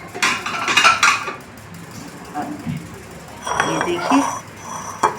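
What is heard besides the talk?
spooning rasmalai kheer out of a pan into a dish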